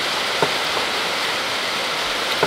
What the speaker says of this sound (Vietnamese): Mưa này chắc nhanh không chị?